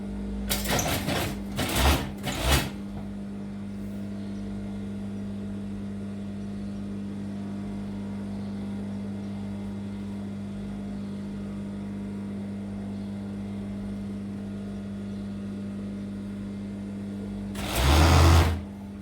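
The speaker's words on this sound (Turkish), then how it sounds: "Diğer bacağı dikiyorum." A sewing machine stitches a pajama leg, with a steady motor hum running for a long stretch. Louder clattering bursts come at the start and again near the end, and no one talks.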